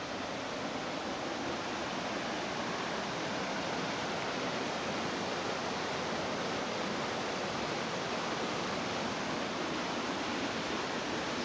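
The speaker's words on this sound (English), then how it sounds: "Just coming across waterfalls we wouldn't have if we went back the Grand Canyon track." A waterfall beside a bushwalking track in the Blackheath area pours in a steady, dense, full-bodied roar that holds constant and loud throughout, with no voices over it.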